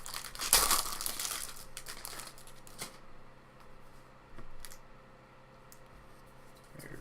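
Paper crinkling and crumpling while opening a 2018 Bowman Draft baseball card box, loud close rustles at first, then quieter scattered handling with occasional crisp bursts.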